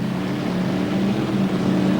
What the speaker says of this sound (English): They start to build the revs up.